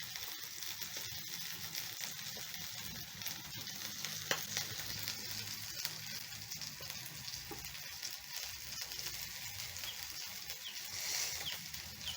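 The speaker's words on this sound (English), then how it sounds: "I'm going to give my fish 1 to 2 minutes, and then I'm going to flip so that the other side can cook" Fish frying in a pan for a stew or fish and chips recipe, a steady broadband sizzle that holds for the whole stretch, close and moderately loud, with no talking over it.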